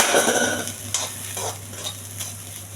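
Spices sizzle and crackle steadily in hot oil, with a few light clinks of a spoon against the pan.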